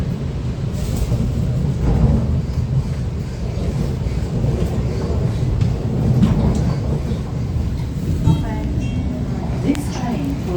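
Steady low rumble of a train running, with rattling and rushing noise throughout and faint squeaks and clunks near the end.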